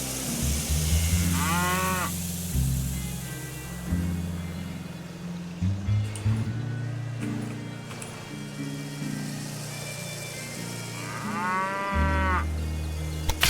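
Cattle at a ranch in the railroad-building game Railway Empire 2 give two long, clear moos, one early and one near the end, over steady game music with no talking.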